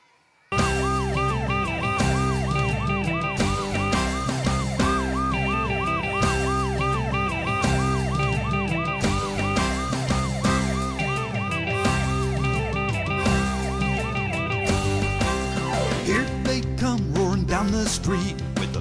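Fire truck sirens wail in repeated rising and falling sweeps over a loud, dense roar of engines, continuous and near for the whole stretch with no talking.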